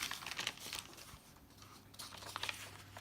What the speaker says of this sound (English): And this is that deli paper that Nick told us about